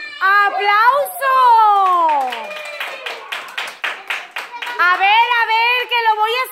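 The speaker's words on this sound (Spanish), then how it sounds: "¡Aplauso!" Children clap in a burst of sharp, uneven handclaps, with excited kids' voices talking and shouting before and after the clapping.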